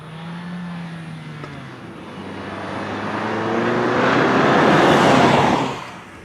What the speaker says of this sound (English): Nice little engine.